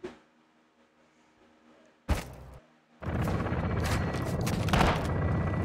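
Gunfire in a Call of Duty Modern Warfare 2 campaign mission: a single sharp shot, a brief burst, then sustained loud rapid firing with booms layered over it.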